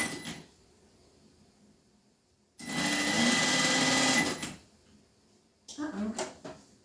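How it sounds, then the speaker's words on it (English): A domestic sewing machine runs in one loud, steady burst of stitching lasting about two seconds while a quilted bag is sewn, followed by quiet and a shorter, uneven run of stitching near the end. "The bobbin on this sewing machine is so much smaller than I'm used"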